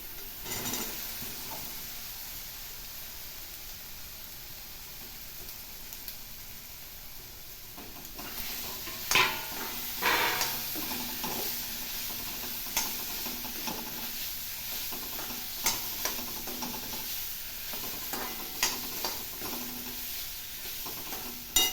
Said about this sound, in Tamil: அதுக்கப்புறம் நம்ம கொழுக்கட்டையை கொட்டி கிண்டிடலாம்.